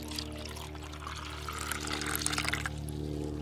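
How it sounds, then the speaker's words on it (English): Lemonade pours steadily into a cup, a continuous close splashing trickle that swells slightly toward the end, over a low background hum. "For the last step is pouring your lemonade."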